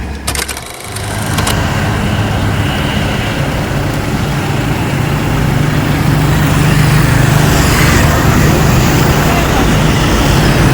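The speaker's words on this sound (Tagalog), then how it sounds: "nirotest po nila yung sasakyan na L300" A Mitsubishi L300 FB van with a half stainless deluxe body idles close by, a steady low engine drone with a brief rougher burst at the start, continuing evenly throughout.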